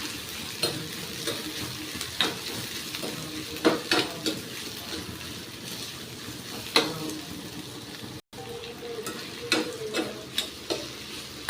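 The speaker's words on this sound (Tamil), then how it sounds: "இஞ்சியும் போட்டுக்கலாம் வதக்க வேண்டியதான்" Ginger sizzling in a hot pan with a steady frying hiss, punctuated by irregular scrapes and clinks of a spoon stirring against metal.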